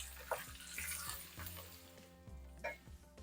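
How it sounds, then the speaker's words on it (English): Water splashes into spiced masala frying over low gas in a pan for aloo sabji, giving a hissing sizzle with a few clinks and stirring scrapes close by. "Add a little bit of water"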